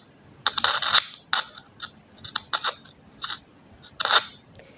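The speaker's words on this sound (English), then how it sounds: "this gonna happen. The speaker is gonna go up and down, and it's gonna sound like this." A loudspeaker cone clicks as a battery is connected and disconnected, giving a series of sharp, irregular close-up clicks and crackles in small clusters over near silence.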